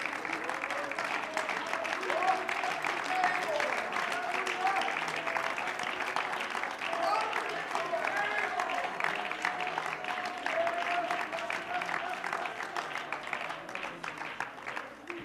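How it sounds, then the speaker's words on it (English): A church congregation at a Wednesday service claps hands in praise, a dense, sustained wave of applause from a full room lasting throughout, with some voices mixed in. "would you give the Lord a hand clap of praise?"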